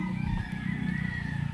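A rooster crows once at a garden cafe in Compostela, Cebu, a drawn-out, moderately loud call over faint outdoor background noise.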